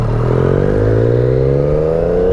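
A Triumph Daytona 675R triple engine grumbles roughly at low revs in third gear from about 1,000 RPM, a loud, steady, close drone that climbs slowly in pitch as it pulls.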